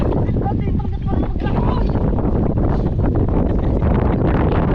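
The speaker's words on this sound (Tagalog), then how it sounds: "Malakas ang hangin." Strong wind roars and buffets the microphone continuously at a pier, with rumbling noise throughout and voices faintly mixed in.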